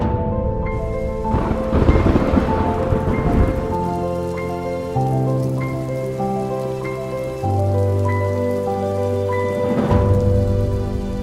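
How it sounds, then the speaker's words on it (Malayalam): Heavy rain falls during a downpour in the UAE, a dense steady roar with swells, while sustained musical tones play underneath throughout. "UAEയിലെ എല്ലാ എമിറേറ്റുകളിലും കഴിഞ്ഞ 4 ദിവസമായി മഴയാണ്."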